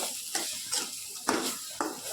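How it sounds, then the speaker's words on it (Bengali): Kebab mixture fries in a kadai, a faint hiss of sizzling oil punctuated by four or five scraping strokes of a spatula stirring against the metal pan. "কাবাবটা ভাজা হয় দেখছেন লেগে যাচ্ছে কড়ায়"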